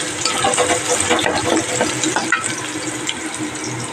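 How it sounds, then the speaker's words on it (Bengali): Onion sizzles in hot oil with cumin seeds, a dense, close crackling hiss that continues steadily without any speech. "আর ওই তেলেই দেখো জিরে ফোড়ন দিয়ে পেঁয়াজটা দিয়ে দিয়েছি। পেঁয়াজটা হালকা ভাজা হোক।"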